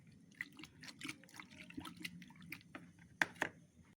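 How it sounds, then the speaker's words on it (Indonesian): Water being stirred into LABS detergent base, 500 ml mixed together, giving faint scattered drips and liquid swirling with a few sharper splashes near the end, quiet throughout. "Air dimasukkan ke LABS sebanyak 500 ml. Kemudian kita aduk"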